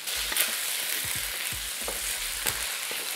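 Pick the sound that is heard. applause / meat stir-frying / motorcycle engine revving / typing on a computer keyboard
meat stir-frying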